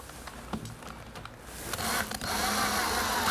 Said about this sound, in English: the first thing I want to do is put a screw right in from the back side.